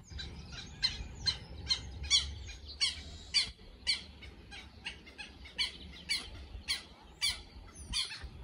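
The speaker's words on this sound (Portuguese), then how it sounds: "tirar foto do passarinho, que ali tem a fêmea" A small bird calls outdoors at a hot spring resort, giving sharp repeated chirps and squawks roughly every half second, close and clear above a low background rumble.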